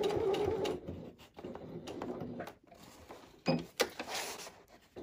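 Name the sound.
sewing machine stitching the top of a tote bag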